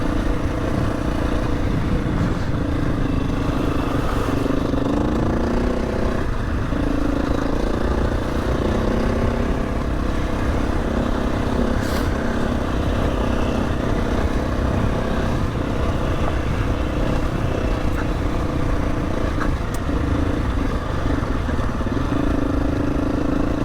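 A Husky motorcycle rides a rough, rocky track along an old coach road in the Lake District. Its engine drones steadily and loudly throughout, with a close wind-buffeted rumble and small shifts in pitch, and no clear speech.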